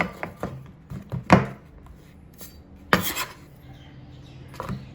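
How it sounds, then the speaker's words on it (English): A knife chops jaggery into fine bits on a board for Goan coconut-and-jaggery dodol, giving a handful of sharp, close knocks and scrapes spaced irregularly over a quiet kitchen background. "Now we are going to grate this jaggery or make it into fine bits"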